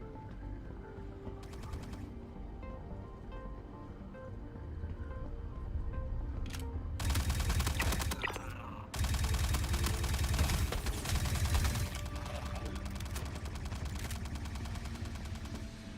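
Video-game gunfire, including a shotgun, rattles out in rapid, loud bursts of shots, with a quieter stretch early on before dense volleys that continue almost without a break.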